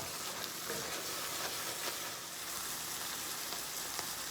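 Minced garlic sizzles in butter over high heat, a steady, even crackling hiss throughout at moderate level with faint pops.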